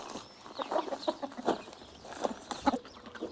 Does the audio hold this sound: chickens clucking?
yes